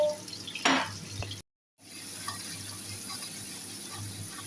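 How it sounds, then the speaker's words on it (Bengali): Egg seasoned with turmeric and salt frying in a pan in a home kitchen, with a steady close sizzle. A short clatter of stirring comes near the start, then a brief silent gap before the sizzling carries on alone. "আর হলুদ দিলাম নুন দিলাম দিয়ে এবার ডিমটাকে ভেজে দেবো"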